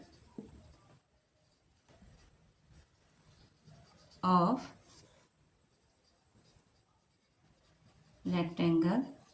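A statement being written on a board in a class on rectangles and quadrilaterals, heard as soft, faint scratching strokes between two short bursts of a teacher's speech.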